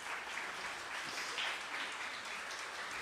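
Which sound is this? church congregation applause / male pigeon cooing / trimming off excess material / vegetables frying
church congregation applause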